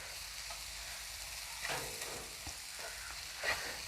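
Chili and turmeric powder frying in oil in a pan for a mackerel dish, a steady close sizzle broken by a few soft stirring scrapes, with no talk.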